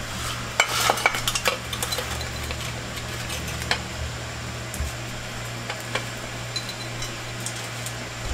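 Sautéed spring beans with sardines being moved from a pan to a plate, with utensil clinks and scrapes clustered early and scattered taps afterward, close and moderate over a low steady hum.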